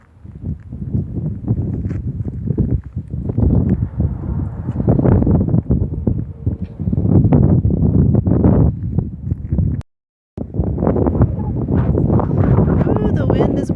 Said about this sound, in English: Ooh, the wind is brutal today.